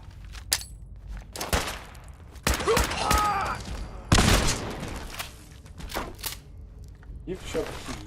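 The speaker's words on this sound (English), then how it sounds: "I'll probably shoot some raiders right now." Gunfire against raiders in Fallout 4's Nuka-World, irregular sharp shots and short bursts, some close and loud, scattered among game sounds, with a voice speaking between them.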